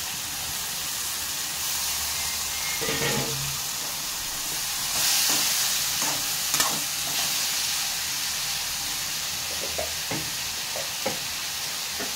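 Ridge gourd is tipped into a pan of fried onions and sizzles with a constant hissing fry, while a spoon scrapes and stirs in short bursts throughout.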